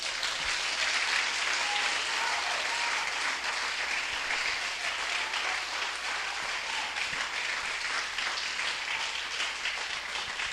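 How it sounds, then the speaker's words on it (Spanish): A church congregation applauds during a Spanish-language sermon, a dense, steady roar of many hands clapping that fills the room and holds without a break, with no voices standing out. "Brinden un aplauso al Señor."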